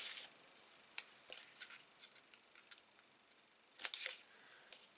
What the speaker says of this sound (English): And then snip that end off that side.